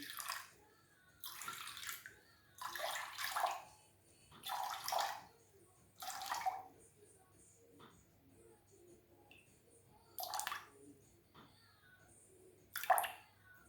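Water is poured into a container and weighed out for making apple and cinnamon soap, arriving in several short splashing bursts separated by quiet pauses.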